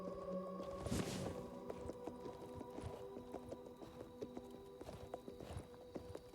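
In the video game Oblivion, a ridden horse's hooves clop in a faint, steady rhythm, with a few louder thuds standing out, all set beneath soft sustained in-game music.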